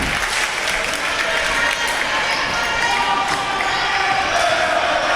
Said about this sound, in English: Student section has a cheer going.